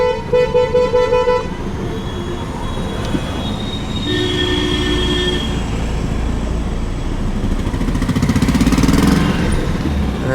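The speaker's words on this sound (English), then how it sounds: "No, normal traffic." Busy traffic in Agra city centre, India, with a loud run of rapid horn toots at the start, then more honks and steady engine rumble close by.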